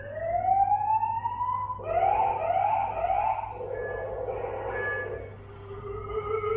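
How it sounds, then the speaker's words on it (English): Police car siren tone played by a Xiaomi smart home gateway alarm: rising and falling electronic wails, then a quicker warbling yelp pattern, loud and close indoors with no talking. "You have the police car tone."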